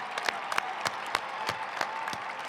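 Audience at a high school graduation applauding, a dense, steady wash of clapping at moderate distance with scattered sharper claps, no voices.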